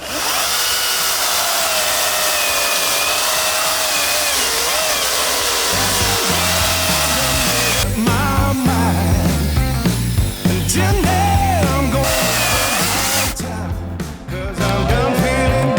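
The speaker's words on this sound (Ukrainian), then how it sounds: "на яких акумуляторах пилка ріже швидше" A ProCraft PCA42/2 cordless power saw on an 8 amp-hour battery runs continuously and loudly, its motor whining and the pitch shifting as it bites into material, with no talking.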